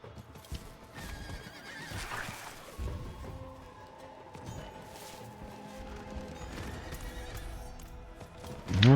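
A horse in a video game neighs and whinnies amid clip-clopping hooves and game noise, with a sudden loud crash at the very end as the rider is knocked off.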